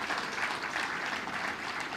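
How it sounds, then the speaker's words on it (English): Dense applause from a large crowd at a live presidential event in Kenya, steady and continuous throughout, with no voices standing out. "let's put a round of applause to Ababu Namwamba, my CS for Sports"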